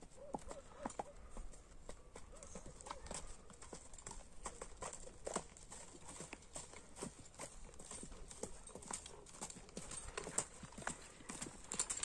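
Horse hooves clip-clopping steadily on firm ground as a young racehorse is walked at a show, a brisk even rhythm of close taps throughout, with faint voices now and then.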